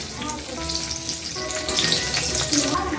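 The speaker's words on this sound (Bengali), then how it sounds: "কিশমিশ আর কাজু বাদাম নিয়েছি, এগুলোকে আমি একটু ভেজে নেব।" Oil sizzles steadily in a pan over low heat as cashews and raisins fry, with soft stirring scrapes and faint clinks over a constant crackling hiss.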